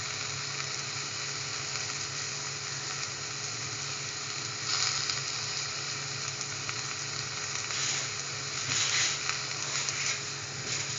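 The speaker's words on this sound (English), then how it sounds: "let it fry for around 30 to 40 seconds." Scrambled egg mixture frying in a pan for a tortilla breakfast quesadilla, a loud continuous crackling sizzle that swells slightly now and then, close and uninterrupted.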